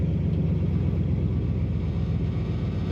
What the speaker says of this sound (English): It has a great rumble coming out of that exhaust pipe.